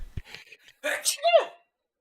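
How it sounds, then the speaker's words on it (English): A single close sneeze, preceded by a couple of quick intakes of breath. "another problem is I gotta sneeze"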